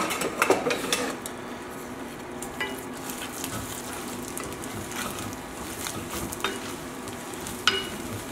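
Garlic sautés in a pan while a wooden spoon stirs it, a moderate sizzle with repeated scraping and tapping strokes against the pan throughout, no voices.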